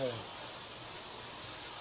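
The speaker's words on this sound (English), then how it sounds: "Spraying right in there. Why are you spraying right in there? Because that's where dirt collects." A pressure washer spraying a car hood at a car wash, a steady loud hissing spray that runs unbroken from start to finish, with a brief tonal sound at the very beginning.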